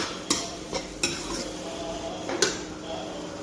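Masala and tomatoes frying in a pan, with a steady sizzle under a few sharp metal clinks as a utensil stirs and scrapes against the pan.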